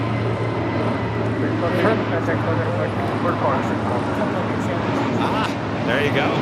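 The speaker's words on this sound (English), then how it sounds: "China Airlines cargo. The 777 coming in from Taipei." China Airlines cargo Boeing 777 arriving from Taipei at Los Angeles International Airport gives a continuous, fairly loud jet roar with a low steady drone, while people talk nearby throughout.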